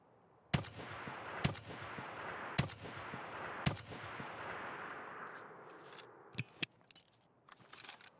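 Heavy sniper rifle gunshots in the video game Escape from Tarkov, on the Customs map: four loud, sharp reports spaced about a second apart, each trailing into a long rolling echo, then a few lighter clicks and clatters as the echoes fade.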